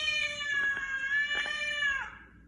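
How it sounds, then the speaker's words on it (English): A house cat gives one long, drawn-out meow close up, loud and whining, sliding down in pitch at the end, with no talking over it. "Our cat does not like the fact that we're all home quarantined."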